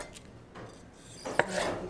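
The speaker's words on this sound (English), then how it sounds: "Now we're cutting the yellow squash really thin." Knife slicing yellow squash thinly for a ratatouille, a few soft cutting strokes with one sharper board tap near the end, close and moderately quiet.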